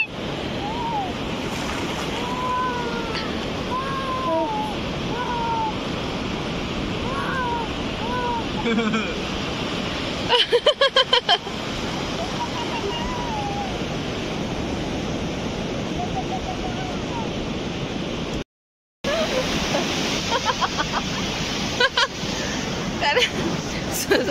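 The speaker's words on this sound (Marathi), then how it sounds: "समुद्राची लाट आली जोरात, त्याच्यातच पडला तो" Ocean surf roars continuously at Sindhudurg Fort on the Konkan coast, with waves crashing, rough wind noise on the microphone, and people talking and calling out over it.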